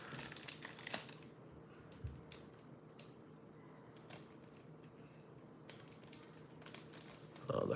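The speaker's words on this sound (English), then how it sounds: "we're going to just cut the plastic instead of tearing it open" A razor blade slicing through a trading card's plastic packaging, with crinkling and scratchy cutting strokes in short bursts separated by quiet gaps, close and fairly soft.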